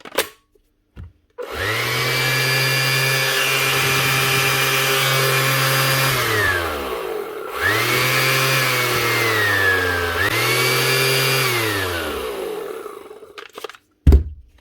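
A Makita DBO180 cordless random orbit sander whirs steadily for several seconds, cuts out briefly, then starts up again and runs on before switching off, with a few clicks at each end.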